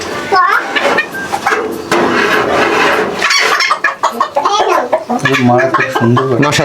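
Fancy chickens cluck and squawk close up in a noisy flock at a sale, with people talking over and between the bird calls.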